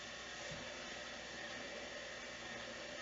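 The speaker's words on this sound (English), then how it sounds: "Now, turn your mixer on slowly." A stand mixer runs on its slow setting while mixing yellow dough, a continuous even motor whir like a hair dryer, steady and fairly faint, alone with no voices.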